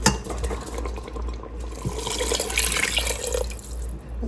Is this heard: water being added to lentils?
yes